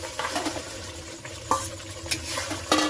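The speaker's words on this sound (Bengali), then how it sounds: "এবারে এই যে ম্যারিনেট করা মাংসটা আমি দিয়ে দেবো।" Marinated chicken goes into frying masala, a sizzle broken up by stirring scrapes and a few sharp clinks of utensil against the pot, close and uneven.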